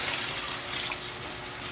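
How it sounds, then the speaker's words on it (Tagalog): Water pours steadily into a pot of menudo, a continuous splashing gush lasting the whole moment, close and moderately loud with no talk. "Maglalagay ako ng tubig."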